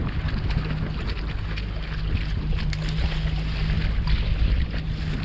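Wind buffeting a crabbing boat out on the water, a steady loud roar of rumbling gusts with engine hum beneath and faint clatter, close to the microphone throughout.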